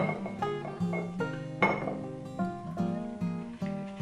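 Dry tomato powder is shifted into a glass jar, giving a run of light clinks and taps of glass and utensils, fairly close and clear, with no talking.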